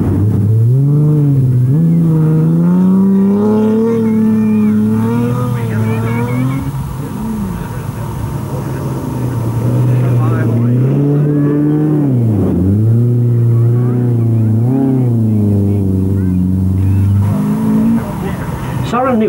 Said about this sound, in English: Søren Nielsen is putting up a fine drive in the Datsun 160J